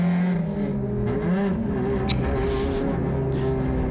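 A mini stock race car engine droning and shifting through gears at the start of a track race, with other cars around; a steady loud rumble with pitch changes as gears change, no voices.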